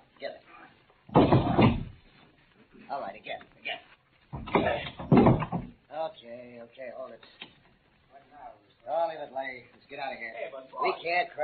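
Door opening in a 1942 radio crime drama: two loud, rough bursts of creaking and rattling, each lasting about a second, followed by voices talking.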